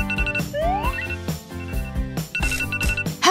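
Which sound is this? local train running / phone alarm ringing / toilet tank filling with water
phone alarm ringing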